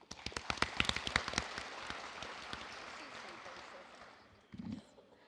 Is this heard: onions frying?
no